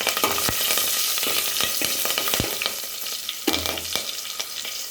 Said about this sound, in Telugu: ఒక బిర్యానీ ఆకుని, 1/4 టేబుల్ స్పూన్ జీలకర్రను, పొడుగ్గా కట్ చేసిన పచ్చిమిర్చి ముక్కలను, ఒక రెమ్మ కరివేపాకుని యాడ్ చేసి ఫ్రై చేసుకోవాలండి